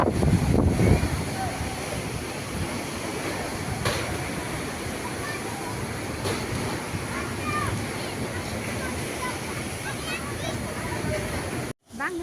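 Violent cyclone wind roars steadily with crashing waves and surf, a dense, continuous rush that stays loud throughout, with a voice speaking near the start and a brief dropout near the end.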